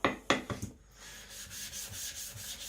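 A gyuto knife rubbing on a Naniwa sharpening stone, a few sharp scraping strokes at the start followed by softer rhythmic rubbing passes, close and fairly quiet.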